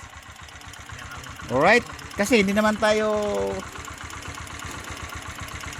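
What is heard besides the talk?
Honda motorcycle engine idling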